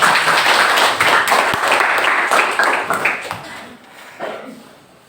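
Students in a classroom clap their hands together in a loud, dense round that tapers off toward the end, leaving a few scattered claps and a voice.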